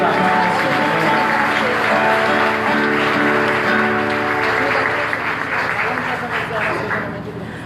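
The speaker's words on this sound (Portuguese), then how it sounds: "aplauda esse amigo, aplauda esse amigo." A congregation at a Catholic Mass applauds in a loud, continuous wash of clapping that blends with music and voices throughout.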